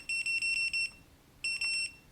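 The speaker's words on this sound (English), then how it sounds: "It should make a beeping sound indicating that it is indeed working." Electronic beeping from a Victure DL50 smart door lock, a quick run of six high, clean beeps, a short pause, then four more, close and fairly quiet.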